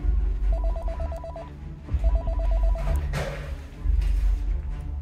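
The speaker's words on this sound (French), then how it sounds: "le téléphone sonne." A telephone rings in two trilling bursts of rapid electronic warbling, loud over a busy background of music and room noise, in a Las Vegas setting.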